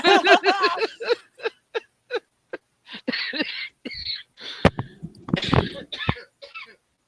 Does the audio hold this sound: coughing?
yes